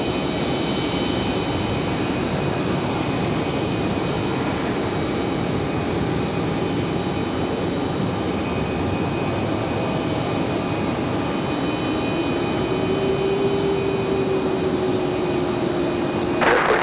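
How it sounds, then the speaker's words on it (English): An American Airlines Embraer E175 jet rolls out after landing at Raleigh-Durham airport, a steady broad engine roar with a faint whine that rises near the end, heard from a distance with no voices. "Nice smooth touchdown for the E175 for American."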